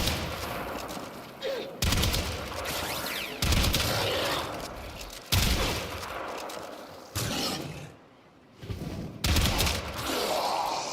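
Shotgun blasts from a Warframe gameplay fight, repeated heavy booms in uneven bursts with abrupt cuts between them, loud and close, with a voice faintly under the firing.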